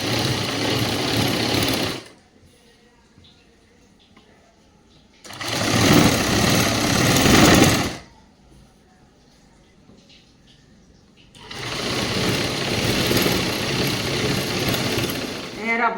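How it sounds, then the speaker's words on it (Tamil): A sewing machine stitches the fabric of a girl's school uniform skirt. It runs in three close, steady bursts with short quiet pauses between them. "இப்போ ஒரு தையல் போடுறேன்."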